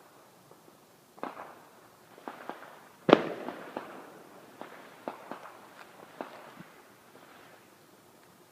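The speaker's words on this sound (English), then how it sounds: "you can't see any of the fireworks. You can only hear them." Victoria Day fireworks bursting at night, heard from a distance as scattered sharp pops and cracks with a few louder bangs, spread irregularly across the clip against a quiet outdoor background.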